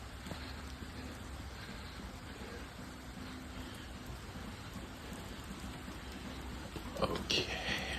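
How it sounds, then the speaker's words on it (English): Steady, dense rain pours down in a constant wash, with a faint low rumble beneath and a brief clatter near the end. "Yep, raining's getting heavier."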